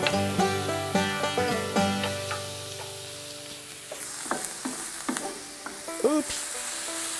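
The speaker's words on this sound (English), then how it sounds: "already the smell of those onions simmering" Onions and ground meat sizzling in a pan for sloppy joes, a steady close frying hiss with a spatula breaking up the meat in repeated scrapes and clacks. A tonal hum runs under the first half.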